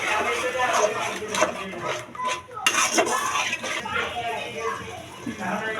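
Spices and sour yogurt stirred into cauliflower and potato biryani in a pot, with a spoon scraping and clinking against the metal in an uneven rhythm under a person's speech.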